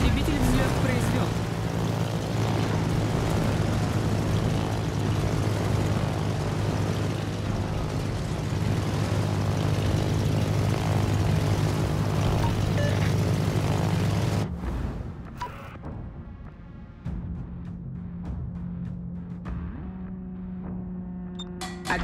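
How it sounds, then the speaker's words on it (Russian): Propeller fighter launching from the aircraft carrier Lexington in the naval game World of Warships: a loud, steady, droning engine roar with a deep hum holds for about fourteen seconds, then cuts abruptly to quieter, sparser game sounds. "Истребитель взлет произвел."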